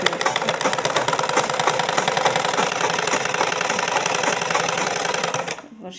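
A sewing machine stitches cloth in a loud, fast, continuous mechanical whir with rapid needle rattle, running steadily close up and then stopping abruptly near the end.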